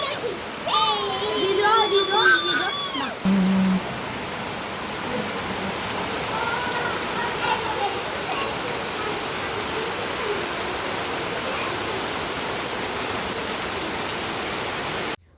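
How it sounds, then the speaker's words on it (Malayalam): Heavy rain pours in a dense, constant roar; a few brief tonal voice-like sounds come before the downpour takes over. "അത് കഴിഞ്ഞപ്പോഴാണ് മഴ പെയ്തത്"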